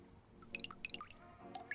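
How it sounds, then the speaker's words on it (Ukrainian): Reagent drops fall one after another into a pool water tester flask, making a quiet run of small, bright plinks and drips, close up and with no talking. "Додайте три краплі реагенту у відповідну колбу."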